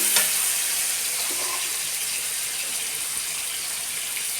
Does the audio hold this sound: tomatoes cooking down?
yes